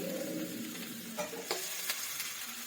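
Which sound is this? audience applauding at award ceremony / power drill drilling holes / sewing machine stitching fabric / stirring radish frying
stirring radish frying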